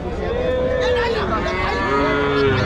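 Native cattle moo loudly at a village cattle market, several long drawn-out calls overlapping one another above a constant background of crowd chatter and livestock noise.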